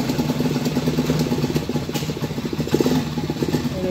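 A motorcycle engine runs steadily nearby with a rhythmic mechanical chatter and rattle as it moves through second, third and fourth gear, fairly loud and constant with no speech.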